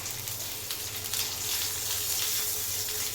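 Mackerel fillets sizzle steadily in a pan over a low gas flame, a constant close, crackling fry with faint spattering and no talking.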